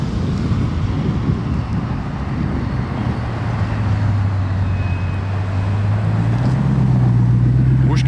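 A Bugatti Chiron supercar approaches under strong wind noise, its engine a steady low drone that rises slightly in pitch toward the end, with no voices over it.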